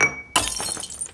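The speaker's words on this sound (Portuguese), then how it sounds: "Som de copo quebrando." A drinking glass shatters in one loud, sudden crash after a moment of quiet, with bright fragments tinkling and scattering briefly afterward.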